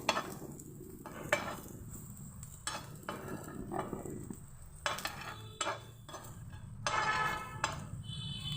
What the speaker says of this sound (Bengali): বাদামগুলোকে ভেজে নিচ্ছি একটুখানি ঘি দিয়ে ভাজলে ভালো লাগে